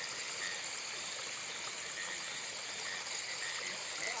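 Water flows steadily on a dark night in the Konkan countryside, a constant close wash with thin, high insect-like chirring layered above it and no speech.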